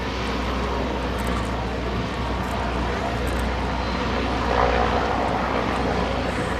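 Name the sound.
Airship Eureka engines and propellers in flight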